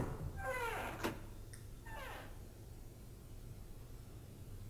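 A door opens in the video game 999: Nine Hours, Nine Persons, Nine Doors, with two short creaking, sweeping groans about a second apart and a soft knock between them, then a quiet hum.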